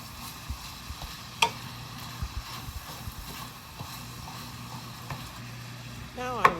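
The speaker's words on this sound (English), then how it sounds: "The butter is melting and the sausage is almost cooked." Butter and sausage sizzle in a frying pan, a low steady crackle close by with scattered taps and scrapes of a utensil against the pan, and a louder clatter near the end.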